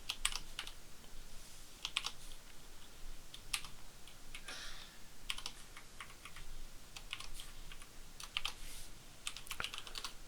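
Rapid clicks of a computer keyboard as code is typed, in irregular bursts of keystrokes with short pauses. The sound is close but quiet, with no voices.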